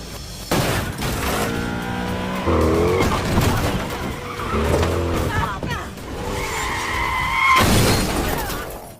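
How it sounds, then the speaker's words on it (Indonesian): In an action film, a car rams another car, with tire skids, a crunching impact and shattering glass under a narrator's voice. "Lalu dia menabrak mobil Samedi untuk menghambat pergerakannya."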